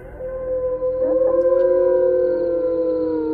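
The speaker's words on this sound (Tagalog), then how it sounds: "nang marinig ko ang malakas na alulong ng aso." A dog lets out a loud, sustained howl at night, a long steady wail with wavering overtones that holds close and strong for several seconds, with nothing else around it.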